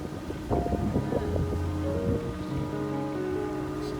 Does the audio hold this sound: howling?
no